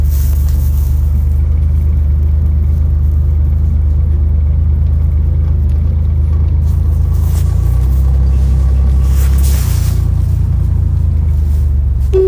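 A 1963 Chevrolet Corvair Monza 900 convertible drives down the road, its engine a steady low rumble from inside the car with a slight dip and rise as it shifts, no talking.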